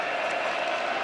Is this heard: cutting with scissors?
no